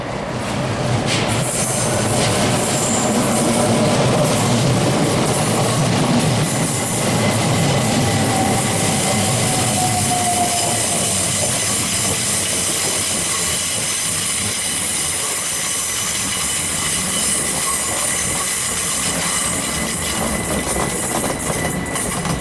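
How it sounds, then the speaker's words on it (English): A London Underground tube train rumbles loudly and continuously, with roaring wheel noise and faint squeals and rattles throughout. "It needs to tell us the sound of the tube trains."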